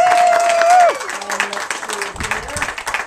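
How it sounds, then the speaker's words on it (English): Audience applause at a Renaissance faire show, a crowd clapping in a steady patter after a held whistle-like tone fades, with a voice speaking over it. "Round of applause for Sarah, everybody."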